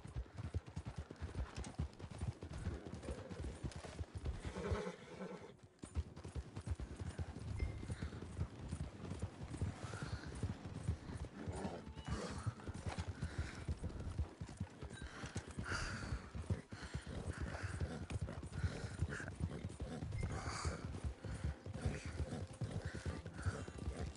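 Horse hooves clip-clop steadily through a video game scene, with an occasional whinny rising above the loud, continuous galloping rhythm and the game's ambient sound.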